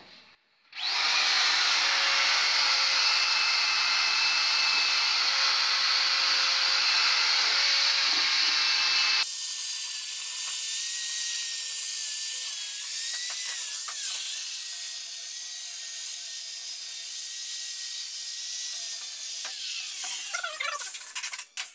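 A drill fitted with a wire brush scrubs the inside of a Peugeot engine oil pan, a continuous high-pitched whirring spin that shifts to a brighter, harsher tone partway through as the brush bites the metal.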